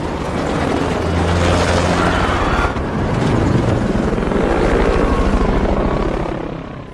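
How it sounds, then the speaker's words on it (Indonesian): A helicopter in the James Bond film Spectre gives a loud, close, continuous roar of rotor and engine noise that holds steady throughout with no speech. "akhirnya Bond berhasil menjatuhkan targetnya dan mengambil alih helikopter lalu pergi dari tempat tersebut"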